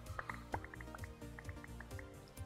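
Running water from a farm sprinkler system in a video game, faint trickling and dripping with bubbly plinks scattered throughout.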